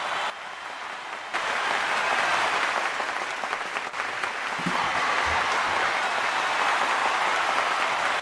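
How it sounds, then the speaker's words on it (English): A live event audience applauds to vote for a contestant, a dense steady roar of clapping that jumps louder after a quieter opening second and carries on strongly to the end. "for everybody who wants to vote for Sydney, please give your round of applause."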